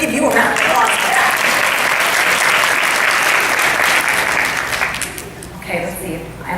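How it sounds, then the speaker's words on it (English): A large audience claps steadily in a dense, loud wash for about five seconds in an evening speaking event, then the applause fades out. "Let's give you a round of applause for that."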